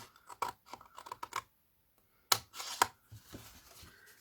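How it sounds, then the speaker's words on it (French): Scissors snip along a drawn line on paper or card while making a mini album in a box, with quick bursts of crisp cuts, a pause, then a few louder sharp snips and rustling. "je coupe sur le trait de 3"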